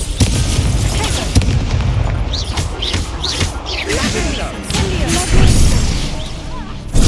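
Confringo fire spells blast in Hogwarts Legacy, a string of loud booming explosions with crackling impacts over deep rumble, mixed with whooshing spell effects and game sounds.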